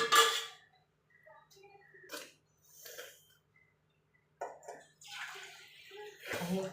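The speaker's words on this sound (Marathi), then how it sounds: "हे कुकर जे आहे ना तो धुवून टाकते मी आतमध्ये" A pressure cooker coated in mutton curry masala is rinsed out with water, giving splashing, running water in several bursts close to the microphone, with brief pauses and faint clinks between them.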